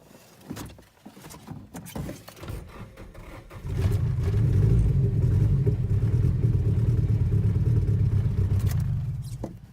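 A Nissan S14 with an SR20 engine, fuel pump freshly primed, cranking over; a few scattered clicks and knocks come first, then a steady loud churning crank runs for several seconds before fading at the end.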